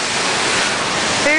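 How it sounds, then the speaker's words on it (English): The big waterfall at Morningstar Mill roars as a dense, steady wash of rushing water, loud and continuous with no pauses. "There's the big waterfall and the houses."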